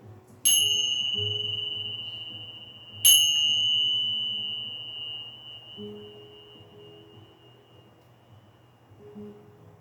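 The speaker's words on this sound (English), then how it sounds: "Let your mind, your body, and your soul absorb the vibrations of the bells" Two bright bell strikes during a slow chair yoga session, each ringing out clearly and decaying over several seconds, the second struck about two and a half seconds after the first, with faint background murmur.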